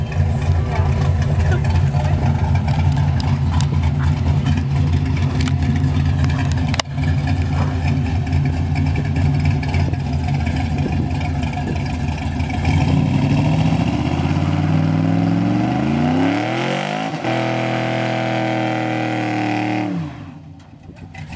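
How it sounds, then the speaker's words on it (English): A car engine revs hard through a burnout at a car meet, loud and sustained with rising and falling pitch sweeps, cutting out near the end. "I want to go do some burnouts before we leave"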